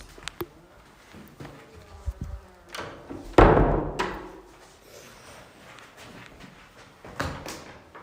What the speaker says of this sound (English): I was really trying to close that door quietly.